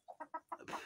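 A hen clucks close by, giving four short, evenly spaced clucks followed by a longer, harsher squawk, in a quiet farmyard setting with a flock of chickens.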